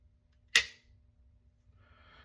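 Firearm trigger snapping once on a dry fire with a dummy round chambered, a single sharp close snap in a quiet room, followed by faint mechanical rattle.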